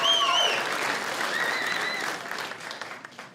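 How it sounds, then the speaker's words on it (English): Applause fills a stand-up comedy club, with a few sharp whistles over the clapping, strong at first and then slowly thinning out. "That's something to clap about."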